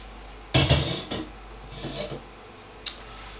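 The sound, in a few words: knife chopping a large onion into small pieces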